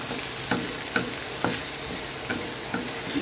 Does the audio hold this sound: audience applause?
no